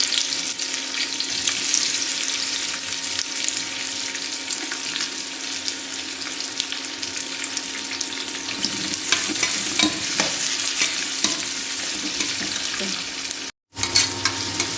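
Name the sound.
onions frying and being stirred in oil for chicken biryani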